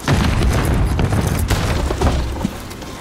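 A stun grenade detonates in a fast-paced shooter video game, a loud, dense burst of booming, crackling blast noise that fills nearly the whole span before tapering slightly, with no clear talk over it.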